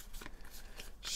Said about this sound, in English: Shuffle them up.